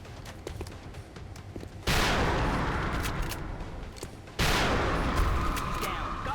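Bursts of gunfire from the turn-based strategy game XCOM: Enemy Within, Long War mod, with two loud sustained volleys of rapid shots that cut in over quieter background game sounds.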